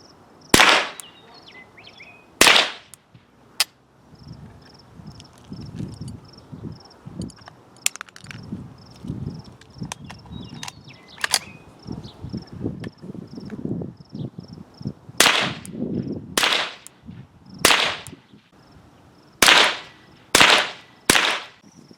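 A Ruger 10/22 rifle fires from a sitting position, sharp loud cracks spaced irregularly at first and then in quicker groups near the end, with insects chirping faintly in the background.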